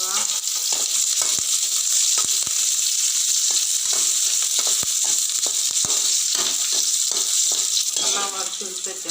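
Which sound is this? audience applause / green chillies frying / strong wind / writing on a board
green chillies frying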